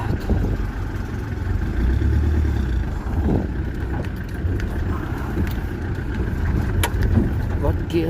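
Peugeot 404 diesel car engine pulling away in first gear on a rough road, a steady close rumbling clatter with low throb that rises slightly as it moves off.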